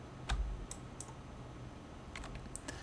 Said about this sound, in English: I'm pressing the left and right bracket keys in order to increase and decrease the size of my brush.